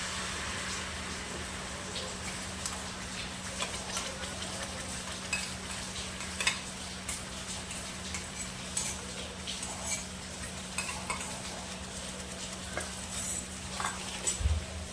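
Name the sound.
stirring gravy for paneer masala in a pan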